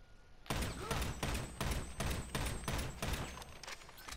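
Rapid volley of gunfire in GTA 5 Online, a steady burst of about eight sharp, loud shots in quick rhythm after a brief quiet start, with no talking.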